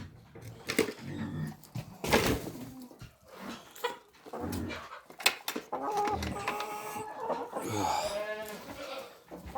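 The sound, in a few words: chickens clucking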